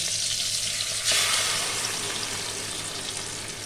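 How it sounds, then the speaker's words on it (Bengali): Fish coated in mustard-poppy paste, salt and turmeric is dropped into hot oil, and a sudden hiss swells into a steady, close frying sizzle that then eases a little. "এই যে এখানে সর্ষের পোস্ত লবণ হলুদ দিয়ে মাছটা ভালো করে মাখিয়ে রেখেছি এবার আমি তেলে দিয়ে দেবো"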